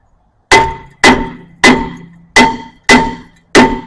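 A hammer strikes a rusted, stuck front brake rotor on a 2016 Mazda CX5 six times in a steady rhythm, each loud, close metallic clang ringing briefly before the next blow, with no talking.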